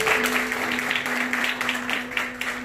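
A church congregation claps together during a sermon, a dense burst of applause with rhythmic surges over a steady sustained tone.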